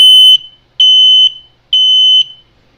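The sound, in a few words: Servis smoke detector alarm in temporal pattern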